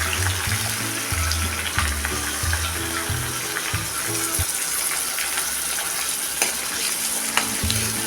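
Finely chopped onion sautéing over curry leaves in oil for a hotel-style potato curry, a steady close sizzle with frequent stirring scrapes and clatter, no voices.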